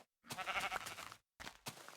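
A sheep in Minecraft bleats twice, quietly: a longer wavering bleat, then a shorter one after a brief gap.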